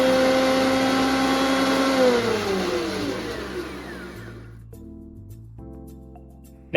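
A Titan planer thicknesser runs loud with a steady high motor whine and harmonic tones, which drop in pitch as the machine spins down and fades to a low hum, followed by a couple of clunks and a sharp knock at the end.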